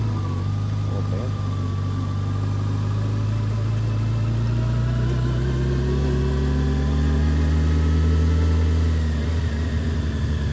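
A car rolls slowly along a road near trailer parks, its engine a steady low hum with gentle shifts in pitch as it cruises, heard close and continuous from inside the vehicle.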